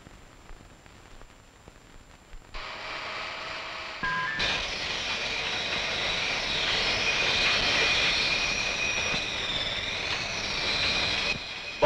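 Military bombers and fighters take off in an old film scene, a loud, sustained aircraft engine roar that swells and holds over a rumbling background with no voices.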